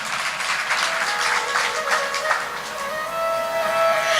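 Audience applause fills a Vedic satsang hall in Ashta, Sehore district, a dense, steady patter of many hands clapping together for about four seconds with no speech over it.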